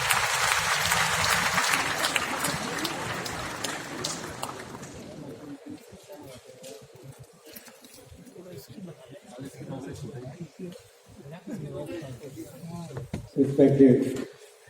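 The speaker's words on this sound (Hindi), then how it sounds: "कृपया तालियों के साथ करें" An audience at a national film awards ceremony applauds to welcome a minister, with dense clapping that fades after a few seconds, then talk and a brief renewed burst near the end.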